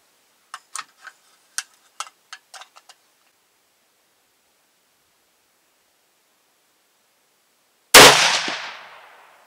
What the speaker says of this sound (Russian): Сейчас сделаем контрольный выстрел